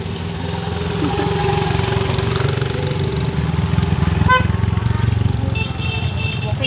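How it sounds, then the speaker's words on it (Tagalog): A motorcycle engine runs loud and close with a steady, rough drone, while people talk under it. "Dali ka may motor."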